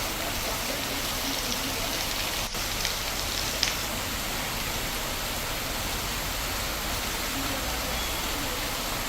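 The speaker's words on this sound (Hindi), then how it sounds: "लगातार यहां पर बारिश हो रही है" Heavy, steady rain falls over flooded, waterlogged areas of Kondagaon in Chhattisgarh, a dense continuous hiss with no pauses and no talk.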